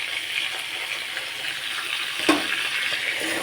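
Steady hiss of frying in a pan after salt and turmeric go in, a continuous, fairly even sizzle with one brief clink partway through and no talking.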